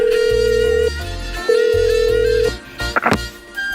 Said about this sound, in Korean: 전화 한번 해봐야 쓰겠네